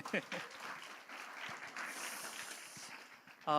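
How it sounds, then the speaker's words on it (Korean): A congregation at a Friday chapel service gives a soft, scattered round of clapping to encourage one another, fairly quiet and brief, with a preacher speaking around it. "옆에 있는 지체에게 격려의 박수."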